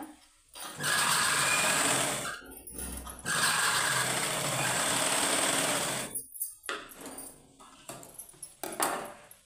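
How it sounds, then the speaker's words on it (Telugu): A sewing machine stitches cloth in loud, close bursts of rapid needle chatter, with a pause between them, then turns into shorter stop-start runs and clicks near the end, with no voices. "క్లాత్ సమానంగా తీసుకుంటూ కుట్టుకోవాలన్నమాట"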